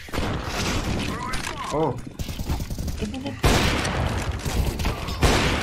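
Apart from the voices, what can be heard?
gunfire in a video game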